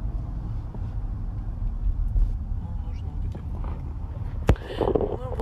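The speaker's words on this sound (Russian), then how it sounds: "Вот так я еду в Беверли-Хиллз" A car driving along the road toward Beverly Hills gives a low, steady interior engine and road rumble, with someone talking over it throughout.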